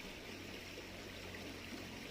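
A mountain spring stream flows in a steady, continuous wash of water, close and moderately quiet, with no voices over it.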